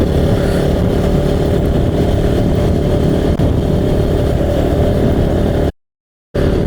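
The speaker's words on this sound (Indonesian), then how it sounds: "di sepanjang perjalanan ini saya memakai motor CKT ini" A CKT motorcycle rides along a road with a steady, loud, close engine drone and wind rush that holds continuously before cutting out for a moment near the end.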